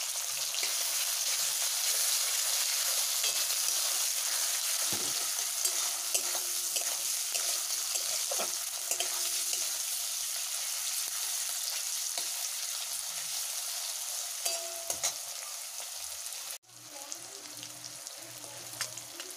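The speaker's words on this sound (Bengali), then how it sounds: "এবার পেঁয়াজ আর টমেটোটা হালকা ভাজা ভাজা করে দেবো।" Onion and tomato fry lightly in a pan, giving a steady close sizzle and crackle that runs throughout, with brief stirring noises and a short dip near the end.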